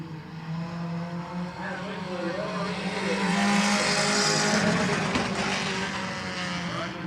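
Stock cars race around Midvale Speedway, several engines roaring and rising in pitch as they pass down the backstretch, with a commentator's voice running under the noise.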